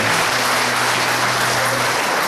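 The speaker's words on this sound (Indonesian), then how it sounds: "Beri kemuliaan bagi Tuhan dengan tepuk tangan dulu" Members of a Christian fellowship congregation clap their hands together at church, a sustained, even wash of applause with no voices over it.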